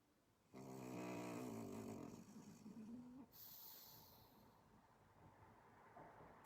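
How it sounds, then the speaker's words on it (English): A dog snores softly nearby, one long rasping breath followed by quieter hissing exhalation in an otherwise quiet room. "I don't know if you can hear the dog snoring."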